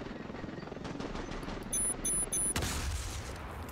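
Rapid gunfire from a shooter in the game Ravenfield, a dense crackling burst of shots continuing for several seconds with a sharper blast near the end, heard at moderate distance amid battle noise.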